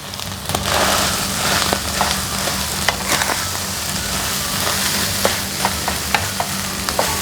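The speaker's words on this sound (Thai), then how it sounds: "ยีข้าวให้แตกนะคะแล้วก็ผัดให้มันเข้ากันกับเนื้อปลากระป๋องเราใช้ไฟแรงเลยนะคะ" Canned mackerel, egg and cooked rice stir-fried over high heat in a pan, giving a steady sizzle broken by frequent scraping, clacking spatula strokes, close and fairly loud with no talking.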